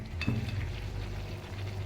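Chili chicken with slit green chilies frying in a pan, a steady sizzle under a few scraping stirs of a utensil, close and fairly loud.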